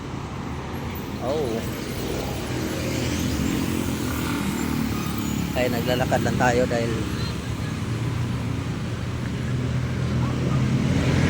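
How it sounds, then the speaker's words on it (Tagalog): Continuous roadway noise from many vehicles passing on a highway, a steady rumble rising toward the end, with someone talking over it. "maraming sasakyan na dumadaan dahil yan highway"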